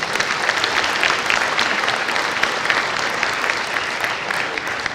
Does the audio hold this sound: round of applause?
yes